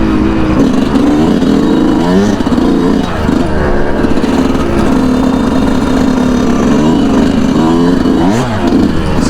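A Yamaha YZ125 two-stroke dirt bike engine on a ride, loud and close, with a buzzy rasping drone that rises and falls through repeated revs and gear changes.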